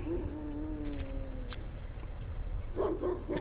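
A dog nearby gives a drawn-out whining whimper, then a few sharp yips, with steady low background hum underneath.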